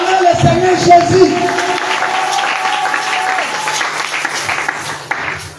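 A church congregation at a French-language service breaks into applause and acclaim, a broad wash of clapping and crowd voices that is loudest at the start and slowly thins out.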